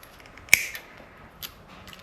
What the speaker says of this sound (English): Use our side cutters to cut our spring compressor.